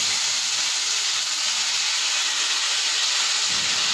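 Chopped ivy gourd hits hot oil with mustard seeds and curry leaves, giving a loud, steady broadband sizzle and hiss that fills the whole stretch without a break.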